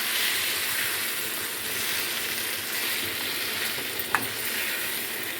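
Raw mango chutney ingredients with curry leaves sautéing in a pan, a steady close sizzle and hiss throughout with a faint clink near the end.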